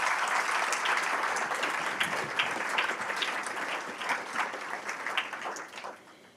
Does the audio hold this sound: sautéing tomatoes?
no